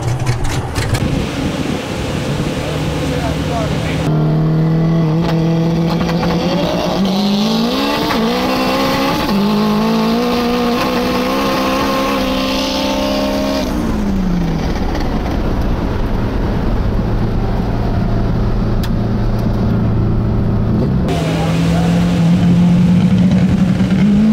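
Honda Civic roll racing an Audi, with a loud close engine note climbing through gears in rising, stepped pitch sweeps under heavy wind and road roar, easing off and then building again near the end.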